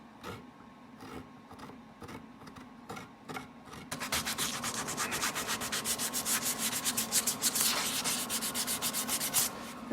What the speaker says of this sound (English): I'm sanding to shape, and I absolutely have to go back and sand it some more.